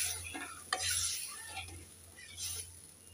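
A Bengali koi fish curry in mustard sauce being stirred in a pan, soft scraping and a sharp utensil clink over a low simmering sizzle, quiet and close.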